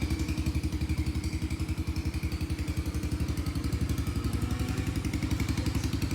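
Chinese RUSI motorcycle from 2015, its engine idling steadily with a fast, even thumping putter throughout, close and loud, with no voices.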